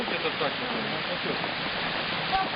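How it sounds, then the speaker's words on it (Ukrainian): A mountain river near Shypit waterfall in Zakarpattia rushes in a steady, dense hiss of flowing water, close and constant, with faint voices blending in beneath it. "Ось такі гірські річки, на якому якраз знаходиться водоспад."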